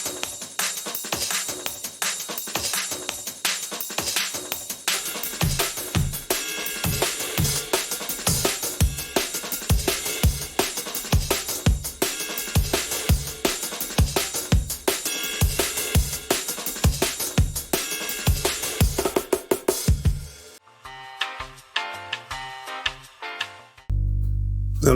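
Liquid drum and bass track built in FL Studio, its heavily processed, sidechained and compressed break loop driving dense, loud, continuous rhythmic hits under pads and synths, thinning to sparse notes near the end before a final low swell.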